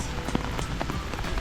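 Steady rain falls in a Swiss forest, a dense, continuous patter of drops hitting leaves and ground up close, with no voices.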